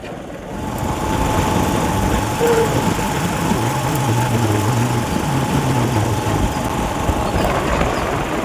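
A tractor engine runs steadily nearby, a loud continuous low rumble with an even idling throb that holds for several seconds.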